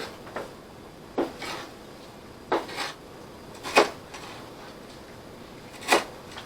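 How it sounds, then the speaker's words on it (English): Parsley chopped for German potato salad, a few sharp, well-spaced knife strikes against a cutting board, close and clear with quiet gaps between them. "We're going to chop this up a little bit."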